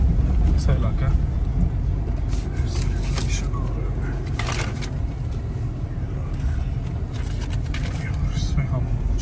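Toyota Land Cruiser 76 series pickup on stock semi off-road tyres driving over rough, nearly trackless terrain, heard from inside as a steady low engine and road rumble with bumps and rattles throughout, a voice talking over it.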